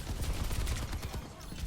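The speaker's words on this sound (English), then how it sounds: "we could be shooting a Mercy, who's low." Rapid video-game gunfire from a team fight in Overwatch, a dense continuous rattle of shots with no clear breaks, heard up close.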